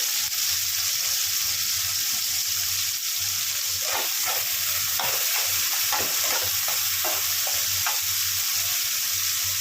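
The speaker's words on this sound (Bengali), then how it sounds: "টমেটোটাও ভালো করে ভেজে নিতে হবে যতক্ষণ না টমেটো থেকে তেল ছেড়ে আসবে" Chopped tomato fries in oil in a pan for a Bengali fish curry, a loud continuous sizzle with a brief run of spatula scrapes and clinks near the middle, no talking.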